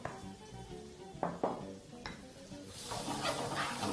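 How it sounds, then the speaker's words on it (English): Butter and brown sugar stirred with a wooden spoon in a pan, a soft continuous scraping with a few knocks against the pan, building to a brighter sizzle near the end. "all we're going to do is just mix that with a wooden spoon"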